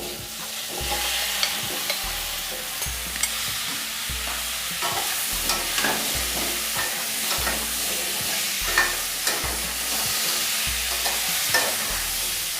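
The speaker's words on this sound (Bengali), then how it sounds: "কুমড়ো ভেজে নেব অল্প।" Pumpkin and potato pieces with turmeric and salt fry over medium heat, a spatula scraping the pan in a regular back-and-forth rhythm over a constant sizzle, close and without speech.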